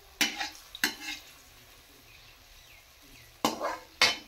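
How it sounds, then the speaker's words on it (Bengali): Food frying in a pan until reddish-brown, heard as a quiet low sizzle broken by four sharp bursts of stirring or scraping, two near the start and two near the end. "লাল লাল করে ভেজে নিচ্ছি আমি এখন"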